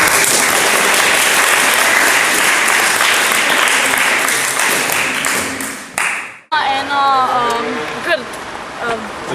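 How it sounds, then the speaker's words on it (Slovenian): Audience applause at a community gathering, loud and sustained clapping from a crowd for about six seconds before cutting off, followed by a voice speaking. "si zasluži aplavz"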